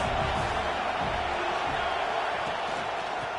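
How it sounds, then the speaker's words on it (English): A stadium crowd roaring in the college football video game NCAA 26, a steady dense wash of cheering noise that stays loud and even throughout, with no distinct voices. "This crowd trying to make life miserable for this offense."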